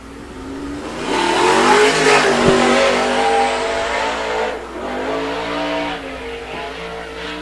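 A sprint car on the I-96 Michigan track roars as it accelerates past toward the green flag, its engine note rising loud and close, then sweeping down in pitch as it moves away and holds a steady drone.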